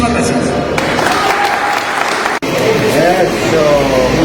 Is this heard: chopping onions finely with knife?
no